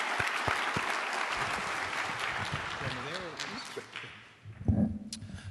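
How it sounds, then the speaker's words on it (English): Audience applause at a community college panel discussion on race, a dense steady clapping from a hall crowd that fades out near the end as a voice begins. "Let's give him another round of applause."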